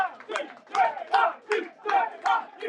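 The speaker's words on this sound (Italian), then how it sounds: "i tifosi si fanno sentire alla Santissima Trinità" Football fans at a Coppa Italia Promozione match in Sicily chant in rhythmic bursts, roughly seven loud shouted beats in steady cadence from a stadium crowd.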